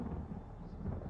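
Thunder from a thunderstorm rolls as a deep, dense rumble that holds steady for a brief moment, loud and with no voices.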